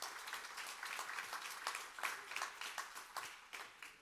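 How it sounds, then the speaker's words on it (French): A conference audience on social dialogue applauds in a room, a dense, even patter of many hands clapping at moderate distance, continuous throughout without voices on top. "je vous demande de les applaudir déjà"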